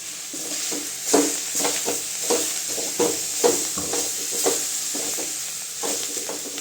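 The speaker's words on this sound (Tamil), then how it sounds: "நல்லா கிண்டி உள்ளங்க தேங்காய் சேர்த்துட்டு" A spoon stirs agathi greens stir-fry with grated coconut in a hot pan, giving rhythmic scraping strokes roughly every second over a soft, steady sizzle, close and clear without talk.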